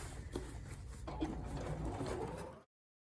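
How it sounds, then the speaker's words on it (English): A sewing machine stitches along the waist of men's slacks, running slowly over thick fabric, a close, steady mechanical whir with rapid needle clicks that stops abruptly near the end. "I'm sewing directly on that same line"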